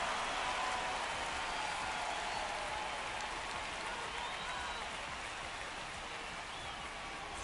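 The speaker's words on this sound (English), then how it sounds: "This rain is not letting up." Rain falls at a ballpark in a simulated MLB video game, a steady, even hiss that continues unbroken with no voices over it.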